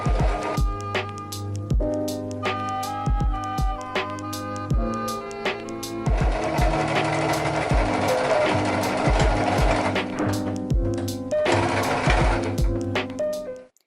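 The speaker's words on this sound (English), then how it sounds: "make sure you only sew the long sides and not the tops" A sewing machine runs in steady bursts, stitching the long sides of a fabric headband; rapid rhythmic needle clatter starts and stops several times, loud and close, with no talking.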